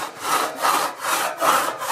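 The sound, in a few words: handsaw sawing wood for a new staircase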